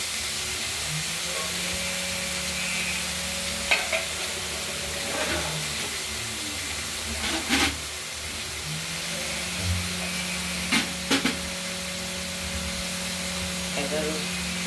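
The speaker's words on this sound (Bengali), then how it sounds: "কুমড়োটা আর উচ্ছেটাকে এর মধ্যে নাড়াচাড়া করে ভেজে তুলব" Pumpkin and bitter gourd are stirred and fried in oil, giving a steady, moderate hiss with a low hum underneath and a few soft knocks from the stirring scattered throughout.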